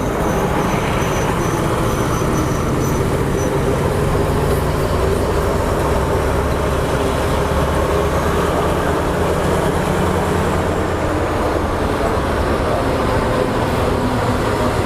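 A heavy, continuous train rumble, loud and steady throughout, with no voices, from train 284 at Khlong Tan railway station, Bangkok, hauling a Thai-built carriage.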